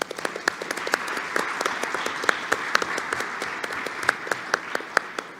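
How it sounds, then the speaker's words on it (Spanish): An audience in a health talk or lecture hall applauds, a dense steady round of clapping with sharp individual claps standing out, sustained at even loudness throughout with no talk over it. "Vamos a aplaudir."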